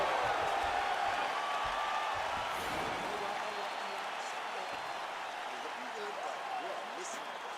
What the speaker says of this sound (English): the crowd enjoyed those 5 minutes